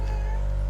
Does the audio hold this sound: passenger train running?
no